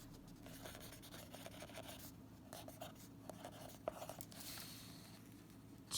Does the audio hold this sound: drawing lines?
yes